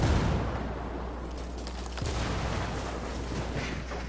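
A frag grenade goes off in a ghost-mode video game, a loud booming blast followed by several seconds of rumbling crackle and gunfire-like bursts, with no one talking.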